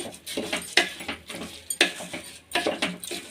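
Washed rice being stirred in a metal pot for soybean pulao, with repeated scraping clinks of a spoon against the pot in an uneven rhythm, close and clear with no talking.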